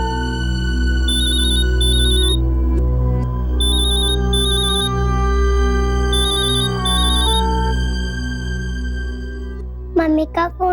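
A telephone ringing in a dramatized crime-show scene, its electronic ringtone repeating in short warbling bursts over a steady background music bed, with a brief voice appearing near the end.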